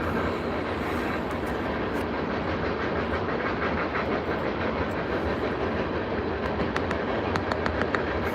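A passing train heard at a distance, a steady broad rumble and rolling hiss with faint rhythmic clicks toward the end, fairly quiet and continuous, with no voices.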